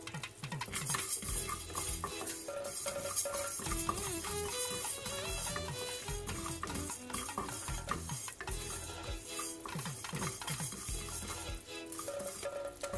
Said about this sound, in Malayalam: അരി ഡ്രൈ ആയിട്ടാണ് നമ്മൾ വറുത്തെടുക്കുന്നത്,